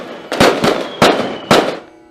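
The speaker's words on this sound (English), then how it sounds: "and starts firing the crackers" Diwali firecrackers and fireworks bursting at night: four sharp, loud bangs in quick succession, each with a brief crackling decay, no voices.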